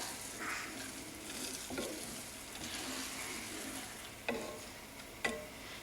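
Green bean thoran being stirred and mixed in a pan, with soft scraping strokes over a faint steady sizzle and a few sharp clicks of the spoon against the pan.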